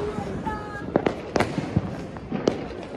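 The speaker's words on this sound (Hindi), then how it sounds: "तो गाइस देखो कितनी आतिशबाजी हो रही है छत पर" Diwali fireworks and firecrackers explode around a rooftop at night: several sharp, irregular bangs and pops, some near and some farther off, with crackling between them and voices in the background.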